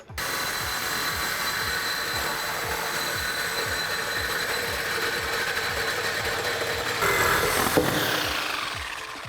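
A Sawzall reciprocating saw cuts through the exhaust pipe of a 2015-2022 Mustang, giving a steady, loud buzzing rasp with rapid rhythmic strokes that runs nearly ten seconds and swells briefly near the end.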